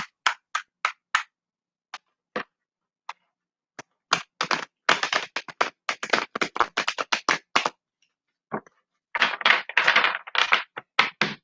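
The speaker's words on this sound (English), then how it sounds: "Let me shuffle it just one more time." Tarot cards being shuffled in short crisp bursts of riffling and tapping, close and fairly quiet, with a steady flurry near the middle and another at the end and no talking.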